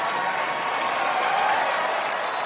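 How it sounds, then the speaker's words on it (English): A large audience at a comedy roast applauds steadily and loudly throughout, a dense wash of clapping hands with no pauses. "Big applause."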